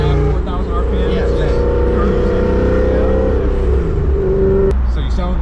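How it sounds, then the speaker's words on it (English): A supercharged 1994 BMW M8 E31 with a swapped-in M5 V8 and Super Sprint headers revs loudly and steadily up close, its engine note holding a deep sustained drone with a brief sharp rise near the end, with voices talking over it. "You can still hear that motor."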